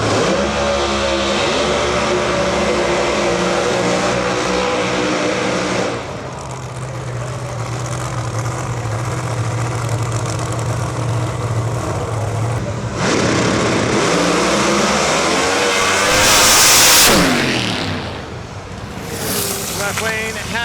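Pro Mod drag racing cars roar down the strip in a qualifying run, a loud sustained engine blast that shifts in tone and swells again near the end, with commentary over it.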